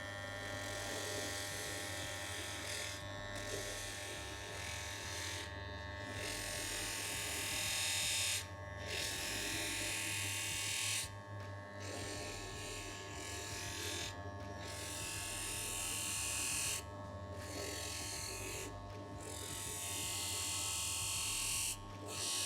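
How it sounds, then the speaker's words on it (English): Knife being sharpened on a fine 240 grit grinding wheel, a steady motorized whirring hum with a gritty edge, broken by short pauses as the blade is lifted and reapplied, close and fairly quiet. "We're now moving on to the 240, which is the really fine, very smooth wheel, which will just finish up and take any of the burrs"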